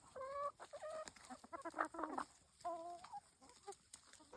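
Chickens at feeding time, a cluster of close clucks and short squawks coming in uneven bursts, with a faint rooster-like call among them and no talking.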